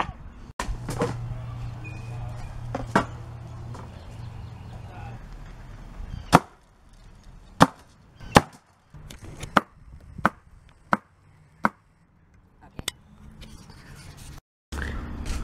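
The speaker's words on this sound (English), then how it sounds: "Chopping things up!" A handmade chef's knife chops through pineapple on a cutting board, giving a string of sharp, close knocks at an irregular pace with short pauses between cuts.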